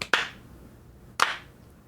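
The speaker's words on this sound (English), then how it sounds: "Yeah, slow clap." Two separate hand claps about a second apart, crisp and close, in a deliberately slow, sarcastic rhythm against a quiet room.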